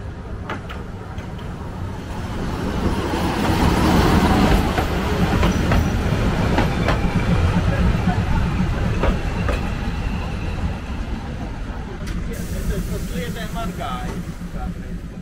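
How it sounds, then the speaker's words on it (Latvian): A diesel train departing Stāmeriene station in Latvia rumbles steadily with clattering wheels, growing louder then holding; a brief high whistle-like tone near the end. "Svilpe un dīzelīts attiet no Stāmerienes stacijas."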